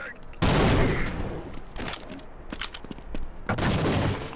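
Gunfire in the video game Half-Life: loud bursts of shooting and blasts in two main clusters with scattered shots between, over near-constant game noise, and a player's voice is heard too.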